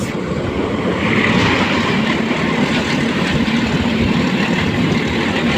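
The Kishoreganj Express, bound for Kishoreganj from Dhaka, passes close on a Bangladeshi railway with a loud, continuous rumble and roar of wheels and carriages that holds steady throughout.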